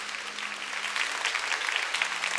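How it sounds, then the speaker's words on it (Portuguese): A church congregation claps in praise, sustained, fairly even applause throughout, with a faint low tone sitting beneath the clapping. "Vamos aplaudir o nosso Deus."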